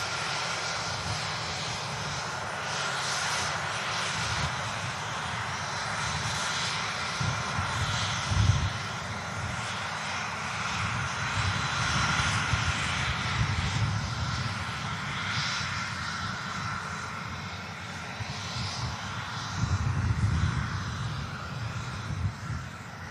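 An airplane engine at Manchester Airport drones in a continuous, distant-sounding roar that swells and eases gently over some twenty seconds, with no talk over it.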